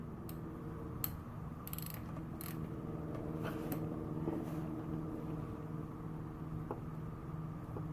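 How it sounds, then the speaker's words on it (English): A ratchet wrench loosens the drain bolt on a Buell XB motorcycle during a primary oil change, giving faint repeated clicking and creaking mechanical sounds that run steadily through the clip with no talk. "take off the drain bolt."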